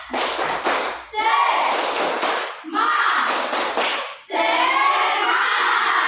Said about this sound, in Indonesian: Berdiri semua, tepuk semangat